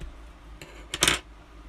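Scissors snipping crochet yarn: a soft click, then one short, fairly close cut, heard on its own against quiet room noise.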